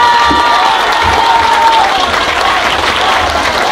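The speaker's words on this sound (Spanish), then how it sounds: "Recibámoslo con un aplauso, por favor." Large crowd at an outdoor political rally for Andrés Manuel López Obrador in Magdalena Contreras, Mexico City, clapping and cheering loudly and continuously, with shouts rising through the dense, steady applause.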